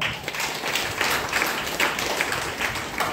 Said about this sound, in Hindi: चलिए आपके लिए जोरदार ताली।